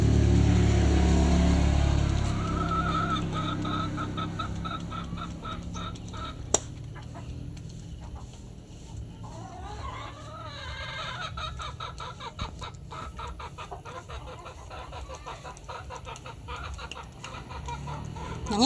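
A backyard hen clucks repeatedly at close range among other free-range chickens, with farmyard background noise and occasional louder calls throughout.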